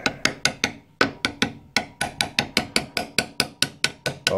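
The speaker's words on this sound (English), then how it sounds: "where's my hammer?" Hammer striking a seized ATV engine part during a strip-down, about twenty sharp metallic blows in a steady fast rhythm, loud and close with no talk.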